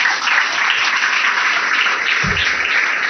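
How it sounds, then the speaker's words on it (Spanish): A church congregation applauds together in a steady, full wash of clapping that holds evenly throughout, with a brief low thump near the end and no one speaking. "Fuerte el aplauso para el Señor."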